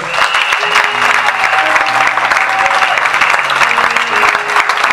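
A church congregation claps loudly and steadily in praise of the Lord, a dense, continuous wash of hands at close range, with faint voices mixed in beneath.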